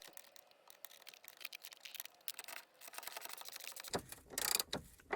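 Bolts on the front spring and top bearing of a Jaguar X-Type are being tightened with a hand tool, giving quick ratcheting clicks and metallic mechanical rattling, close up, with a louder clattering flurry near the end.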